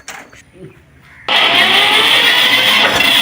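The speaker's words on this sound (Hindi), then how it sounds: "देखो कितना बढ़िया, पहले साल में ट्रैक्टर स्टार्ट, बहुत बेहतरीन" After a moment of quiet handling sounds, a tractor engine abruptly catches and runs at a loud, steady idle rumble close by.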